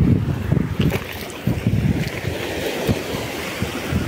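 Sea waves wash against the shore at a fishing spot while wind gusts over the microphone, producing a loud, continuous rumble with repeated splashing surges and no voices.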